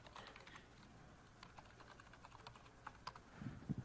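Soft, rapid keystrokes on a computer keyboard as a username is typed during a tech demo, quiet and steady with a few louder taps near the end.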